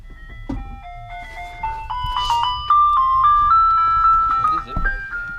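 A modded Chevy S10 pickup plays an ice cream truck chime, a bright music-box melody stepping upward in clear sustained notes over a low vehicle rumble, loud and close with a voice briefly overlapping.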